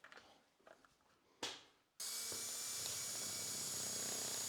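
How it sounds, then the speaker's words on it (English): A brief scrape and knock, then a power drill kicks in and runs loud and steady, its high whine continuing without pause up close as it drills into a house wall. "I need to drill on the left-hand side"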